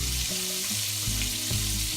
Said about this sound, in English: So I'm gonna let this fry for a couple minutes